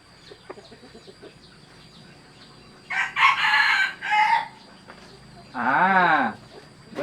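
Chickens on a farm crow and call in two loud bursts, then one strong rooster-like crow near the end, over quieter clucks and faint background noise.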